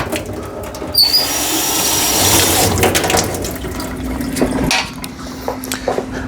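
Water running and splashing over freshly de-rusted metal parts as they are rinsed clean, a steady close wash that swells in the middle and tapers toward the end.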